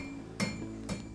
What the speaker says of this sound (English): you can still hear the sounds of the hammer striking the hot iron as things are still being made